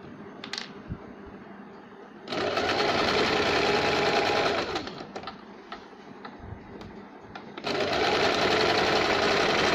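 A sewing machine stitches a saree blouse with lining in two long, steady runs of rapid clatter, close and loud, separated by a quieter pause with light handling.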